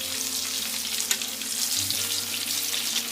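Eggplant slices fry in oil with a steady, close crackling sizzle that holds evenly throughout, with no talk.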